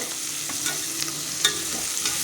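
Cut onions hit hot oil for a chicken gravy, sizzling steadily while a spoon stirs them with light scraping strokes, close up and with no voices.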